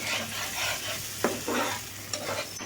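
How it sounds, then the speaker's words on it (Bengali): Tamarind with garlic, chilies and spices stirred in a frying pan, a continuous close sizzle broken by several scraping strokes of a spatula across the pan; no talking. "এই পর্যায়ে দেখতেই পাচ্ছেন আমি সুন্দর করে নেড়ে দিচ্ছি"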